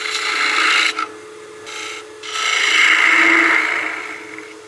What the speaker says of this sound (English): That way I can get my spindle gouge